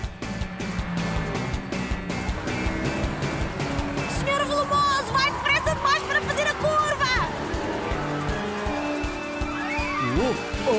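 Cartoon racing cars roar past with squealing, skidding tires, engine noise steady and loud over a busy soundtrack while voices talk throughout.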